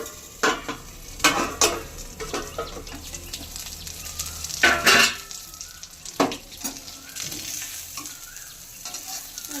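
Chhana paturi wrapped in bottle gourd leaves fries in a pan, a steady close sizzle broken by sharp scraping and stirring clatters of a utensil, with no talking.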